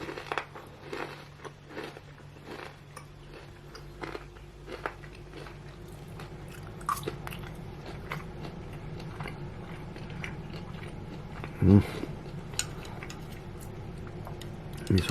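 Quiet, close crunching and chewing of crispy fried food, with irregular crackly bites and a couple of louder crunches, and no talking.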